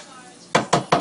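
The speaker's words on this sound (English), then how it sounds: "So I put a little bit of butter in the pan" Butter dropped into a pan on the stove, three quick clattering knocks of utensil against metal in a regular rhythm after a brief quiet hiss, close and fairly loud.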